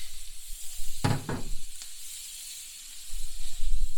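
Celery and onions cook in butter in a pan, giving a soft, ongoing hiss and sizzle with a couple of sharper bursts as the vegetables are stirred or hit the fat.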